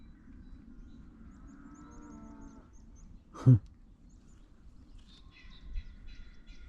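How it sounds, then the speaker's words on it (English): A distant cow moos low and drawn out on a hillside near the Lulworth Firing Range, followed by a short thump, with faint bird chirps in a quiet outdoor setting. "There's some very noisy cows along the other side of the hill."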